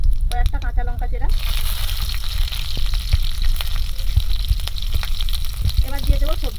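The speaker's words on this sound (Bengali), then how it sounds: "কড়াইতে তেল দিয়ে দিলাম, 5 ফোড়ন, কয়েকটা কাঁচা লঙ্কা চেরা।" Panch phoron spices and slit green chillies sizzle in hot oil in a wok, a steady close crackling hiss throughout with brief voices at the start and end.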